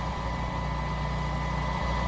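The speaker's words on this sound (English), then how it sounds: "getting all the blowers running" A no-till planter runs with all its seed blowers going, a steady, loud, unbroken mechanical drone and whir with a constant low engine hum beneath.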